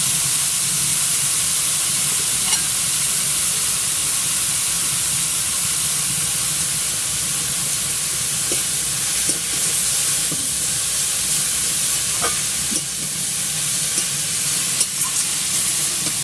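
Leafy greens frying in a pan with a little salt and turmeric, giving a continuous loud hissing sizzle throughout, with occasional faint scrapes and taps as the greens are stirred.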